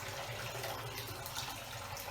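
Wet yarn being lifted out of a basin of water in a bathroom, giving a steady close trickle and splash of running, dripping water throughout, with no voices.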